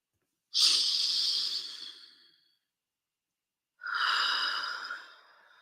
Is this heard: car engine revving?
no